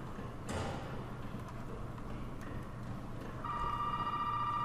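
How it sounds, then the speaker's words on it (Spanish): A telephone starts ringing inside a house in the horror game Resident Evil 7, a sustained electronic bell that rises over a low ambient rumble in the last second of the clip. "Mierda, teléfono."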